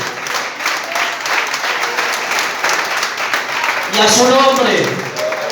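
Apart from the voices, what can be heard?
congregation giving a loud applause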